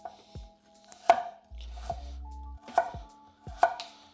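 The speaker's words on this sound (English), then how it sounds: "take the carrot and just slice one side." A knife dices a carrot on a cutting board in sharp, close, distinct chops spaced about a second apart, with soft scraping between strikes and no voices.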